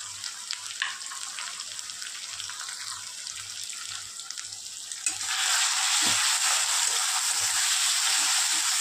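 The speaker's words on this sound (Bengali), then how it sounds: "এর মধ্যে দিয়ে দেবো আমি এখন একটা ভাজা মশলা, যেটার মধ্যে আছে জায়ফল, জয়িত্রী" Whole garam masala with nutmeg and mace dropped into mutton frying in a pan for mutton masala curry; a steady hiss that jumps into a louder, denser sizzle about halfway, close and continuous.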